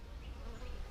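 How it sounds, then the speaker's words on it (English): Bees buzz around a hive entrance in a faint, steady drone that lasts only a moment. "there's a handful of bees around here. You can see they're kind of buzzing"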